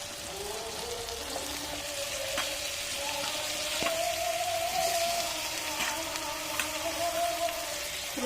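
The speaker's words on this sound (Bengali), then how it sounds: "আমি আজকে আলুগুলো ভেজে নিই আর আলুগুলো আমি একদম ছোট পিস করেছি" Small pieces of potato and meat frying together in hot oil give a steady, close sizzle with light crackling. It runs without a break and no one talks over it.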